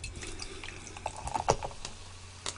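Water poured into a drink at a desk during a live blitz chess game, a soft gurgling trickle with a few small splashes and drips, quiet and close, with no talking.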